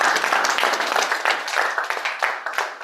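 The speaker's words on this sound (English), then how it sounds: "So please, let me give you a big round of applause." Audience applause at a club leadership and celebration event, a steady wash of many hands clapping close by, continuing without a break and with no voices heard.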